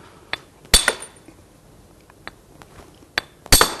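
Sharp, isolated knocks and clinks of flint being struck to chop off flakes, a handful of bright hits spaced irregularly with quiet gaps and a double strike near the end, close and without speech.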